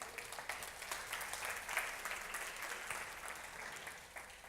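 Church congregation applauding during a Spanish-language Sunday service, a steady wash of many hands clapping at moderate, fairly distant level, sustained and even before easing slightly toward the end.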